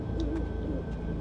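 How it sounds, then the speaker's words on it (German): An owl hoots in a dark forest within a horror video game, a single low call over a steady ambient music bed. "Die Eule."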